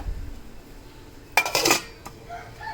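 Metal pots and dishes clatter in a kitchen as soaked rice is put into a rice cooker, with one sharp clanking burst of cookware and a few softer knocks after it.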